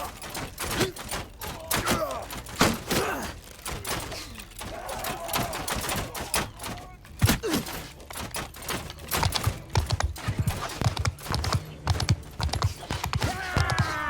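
Horse hooves galloping in the Mount & Blade II Bannerlord video game, a steady clip-clop drumming of hoofbeats mixed with battle clatter and scattered thuds across the whole stretch, fairly close and busy.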